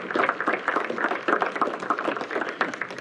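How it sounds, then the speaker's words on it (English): Audience at an electric cooperative's annual meeting applauding its board of directors, a dense, steady round of clapping from many hands throughout. "If you could please give them a round of applause"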